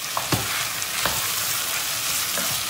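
Tomato paste and onions fry in a pot for an eggplant dish, giving a steady close sizzle with a few sharp scrapes and clinks from stirring.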